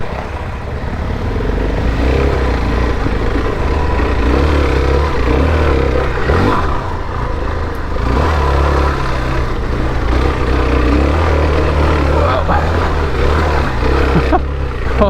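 Suzuki DR-Z4S dual-sport motorcycle climbing a gravel hill, its engine droning loud and close with steady revving and clattering, surging slightly throughout with no talk.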